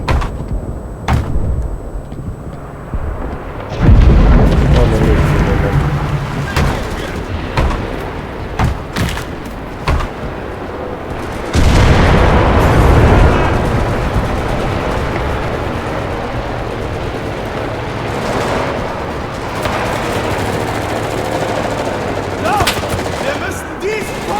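Bursts of rapid gunfire and heavy blasts in the video game Enlisted, with loud surges around the fifth and twelfth seconds, over a steady rumbling battle din and occasional muffled voices.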